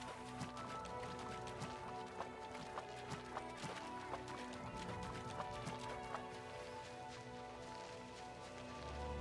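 A horse gallops in the video game Oblivion with a steady, quick clip-clop of hooves, quiet and soft under a dense, busy background of game sound.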